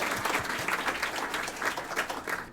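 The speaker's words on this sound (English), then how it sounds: "let's clap for Jim Stammond anyway" An audience at a charity baker's party claps together, a dense run of many overlapping hand claps at moderate level that carries on without a break.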